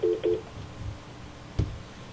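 Telephone tones sound as a call is cut off: two short beeps close together, then a faint click and a low thump, with nothing else heard around them.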